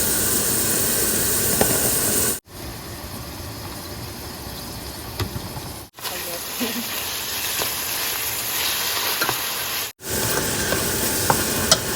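Noodle greens are stirred and fried in a hot pan. A steady sizzle carries scraping stir sounds close up, broken by brief drops, with a faint high tone in the middle stretch.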